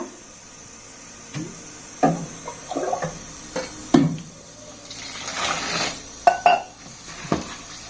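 Flattened rice (poha) is washed in water in a metal vessel, with irregular sloshing, splashes and clinks of the pot against the rim, some sharp and close, and a brief rush of water toward the end.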